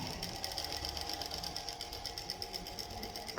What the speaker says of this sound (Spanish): Acá voy haciendo la costura y voy avanzando.